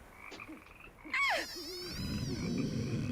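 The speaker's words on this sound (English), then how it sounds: "I love the frog sounds" Frogs croak in a swampy scene of the video game Nancy Drew: The Curse of Blackmoor Manor, a run of short rhythmic croaks followed by a louder rising call over a steady buzzing insect-like background.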